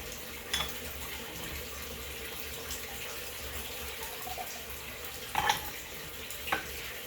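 Hot water poured over raw pu-erh tea to rinse it, a steady, soft splashing hiss running throughout with a few faint clinks near the end.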